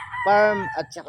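A stealth sweater yellow-legged hatch rooster, a WPC Banded gamefowl from the Visayas, gives one loud, close crow lasting about a second, with a short trailing note and brief talk around it.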